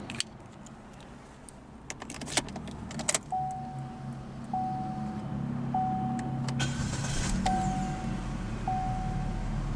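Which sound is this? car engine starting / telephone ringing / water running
car engine starting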